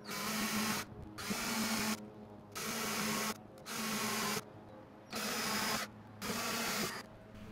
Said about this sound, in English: drilling holes and installing grabber screws